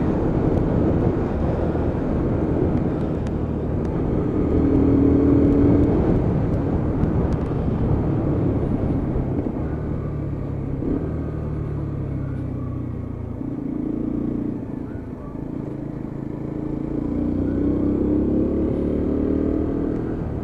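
A Lexmoto Venom motorcycle ridden along countryside roads, with a continuous engine drone and wind rush that rises and falls as the revs change, close and loud throughout.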